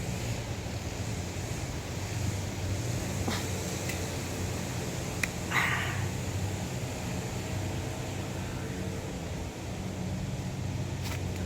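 Strong wind roars steadily through a backyard vegetable garden, a constant rushing bluster with occasional faint knocks and clatters.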